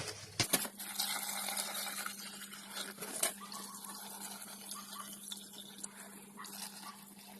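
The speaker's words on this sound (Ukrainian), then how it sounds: "І заливаю водою." Water poured onto a dry concrete mix for cast steps, a quiet trickling and splashing with a couple of sharp knocks near the start, fading into faint dribbling.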